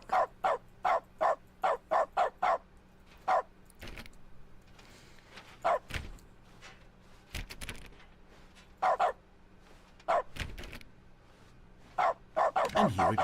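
A dog barks in the game's dog mode: quick runs of sharp, close barks, then single woofs spaced by short quiet gaps, ending in another fast cluster.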